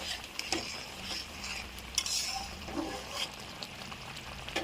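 Pointed gourd (potol) tossed with chili flakes in a pan, a spatula scraping and stirring in uneven strokes over a soft, steady sizzle, with a few sharper clinks of metal on the pan, close up and without speech.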